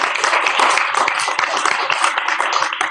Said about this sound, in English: Can we give all these folks a big round of applause?